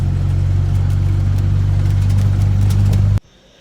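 An owner-type jeep, a Tamiya OTJ, drives along the Emilio Aguinaldo Highway toward Dasmariñas, Cavite. Its engine gives a loud, steady low drone with road noise heard from inside the vehicle, then it cuts off abruptly near the end.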